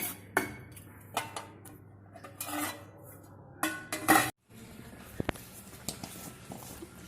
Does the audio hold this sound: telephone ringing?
no